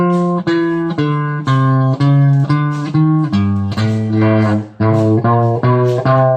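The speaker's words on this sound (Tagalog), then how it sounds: "Pag hard picking, ganito yung tunog." Electric guitar notes picked hard and fast, each attack sharp and bright with a slight buzz, playing a continuous melodic line with no voices.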